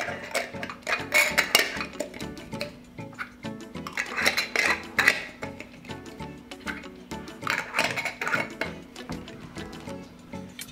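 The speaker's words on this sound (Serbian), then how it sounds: "Tegle zatvorite sa čistim i novim poklopcima." Repeated clinks and clatter of glass jars being closed with metal lids, in irregular bursts of tapping and scraping, close by, no talking.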